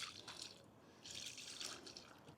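Water poured from a bucket onto newly planted cherry trees in a garden bed, a soft, close splashing and trickling in two bursts with a brief lull between, no voices.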